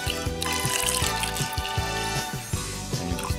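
Vinegar poured over an egg for a children's egg-and-vinegar experiment, a steady splashing trickle of liquid running continuously for a few seconds, close and fairly loud.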